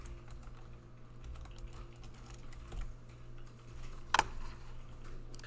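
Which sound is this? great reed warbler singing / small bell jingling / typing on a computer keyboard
typing on a computer keyboard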